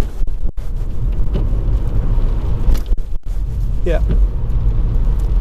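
A VW Up! GTI driving in third gear at about 20 mph, with a loud low engine and road rumble throughout, a few sharp thumps and a brief spoken word.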